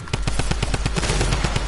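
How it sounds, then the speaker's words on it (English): Tommy gun firing in Fortnite, an evenly paced automatic stream of about a dozen punchy shots in under two seconds, loud and up close with no voices. "Let me shoot you once. With the Tommy gun once."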